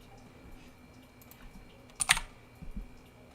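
A computer keyboard being typed on in short bursts, with a tight cluster of clicks near the middle and a few softer taps after, close by and fairly quiet, no talk.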